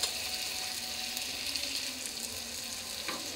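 Malabar spinach seeds sizzle in a pan of spices, a soft, steady frying hiss with faint scraping from stirring, fairly quiet throughout.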